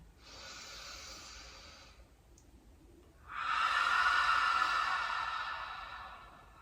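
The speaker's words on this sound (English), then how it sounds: "on an exhale, wide mouth, just surrendering back down towards the earth" Two long open-mouth exhales during a yoga breathing practice, a softer breathy hiss followed after a pause by a louder, fuller whooshing breath that slowly fades, close to the microphone.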